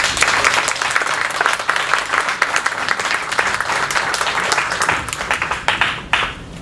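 Loud, dense audience applause at a neuroscience course lecture for educators, steady clapping from a sizable crowd filling the whole stretch, with no talk over it.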